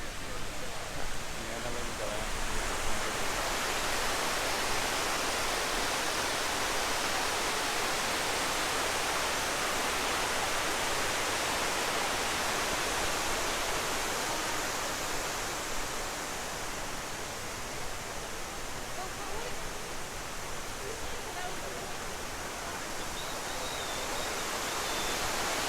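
Water pours steadily into the 9/11 Memorial pools in New York City, a broad, continuous rushing roar like a waterfall, constant and enveloping from start to finish.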